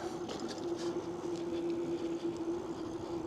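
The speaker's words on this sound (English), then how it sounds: "Okay, let's take it for a ride, see how it does." A Velotric Summit 2 hybrid e-bike ridden along a street, giving a steady continuous hum with a sustained tonal whine and broadband road and wind noise, no talking.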